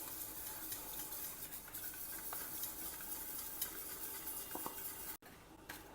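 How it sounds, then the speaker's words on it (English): Cooked moong dal being mashed and stirred in a pot, with a steady soft, mushy scraping and squelching that continues without pause, a few light utensil clicks, and a brief drop near the end. "So first I will just mash it well and keep till it becomes soft and mushy"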